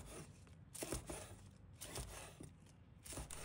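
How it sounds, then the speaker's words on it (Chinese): A knife chops scallion whites into sections on a cutting board, giving a steady run of close, sharp taps spread across the whole stretch. "把葱白拍几下， 再切成段。"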